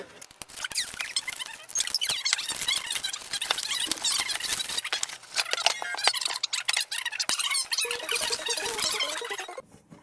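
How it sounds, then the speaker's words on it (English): A OnePlus Nord phone box is torn open up close, giving a run of squeaky, scraping cardboard and plastic sounds with sharp tearing bursts and no talking. "I'm going to go ahead and I'm going to rip this box open and see what's inside"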